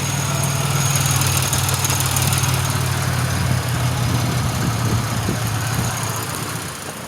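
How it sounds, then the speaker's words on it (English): A 2007 Pontiac Grand Prix engine with an exhaust leak idles steadily at close range, a continuous low rumble with no voices, fading slightly toward the end. "Now it's idling smooth."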